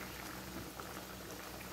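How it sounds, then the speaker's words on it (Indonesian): Crab curry bubbles at a steady boil in a pot, giving a dense, continuous simmer of small popping bubbles at low volume with no talking. "Kari kita dah mendidih."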